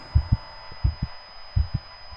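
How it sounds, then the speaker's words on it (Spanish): A heartbeat effect thumps in slow paired beats, three lub-dub pairs, deep and close, with a thin steady tone hanging in the background. "el infernal latido del corazón iba en aumento"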